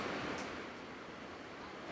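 A waterfall, a faint, continuous broadband rush of falling water heard from a distance, steady throughout with no voices.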